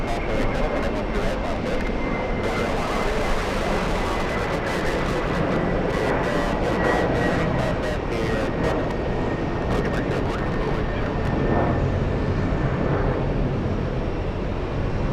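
A jet airliner on the world's longest flight passes at JFK Airport, its broad engine roar steady and loud for the whole stretch with a thin whine running over it.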